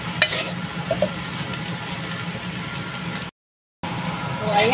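Chili peppers frying in a pan give a steady, close sizzle that runs under the whole stretch, with a short silent gap near the end.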